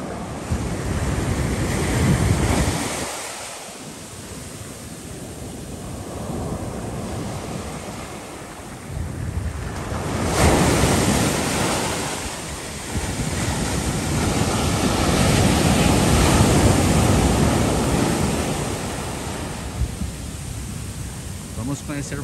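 Ocean surf breaks steadily on a beach in Penha, Santa Catarina, a continuous loud wash of waves with gusting wind buffeting the microphone throughout.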